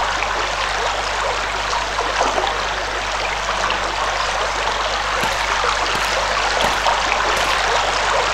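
Water flows constantly in the video game Anna, a loud, steady rushing stream heard alone from start to finish.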